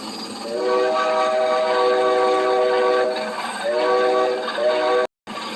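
A train whistle in a Roblox game sounds in long, loud sustained blasts over the rumble of the moving train, with a short break near the end.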